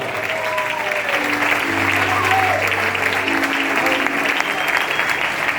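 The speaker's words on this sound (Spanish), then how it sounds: "Dale aplauso al Señor" A youth church congregation in Valladolid claps steadily for several seconds after a preacher's call to praise, a dense sustained applause with voices and musical tones rising through it.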